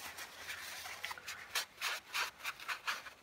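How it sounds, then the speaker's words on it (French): Excess crackle paste paint is wiped off a surface in short, repeated rubbing strokes, each a soft, close scrape in an uneven rhythm. "j'ai le temps de venir nettoyer le surplus qui se trouve en surface"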